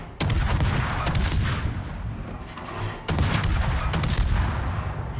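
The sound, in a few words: guns firing in a naval video game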